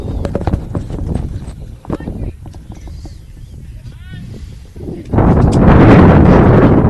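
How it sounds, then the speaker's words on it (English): A strong gust of wind at an outdoor girls' softball game batters a tent and the microphone. It comes as loud buffeting and roaring bursts, with voices heard at the start and the wind swelling again near the end. "Gust of wind that caught her tent."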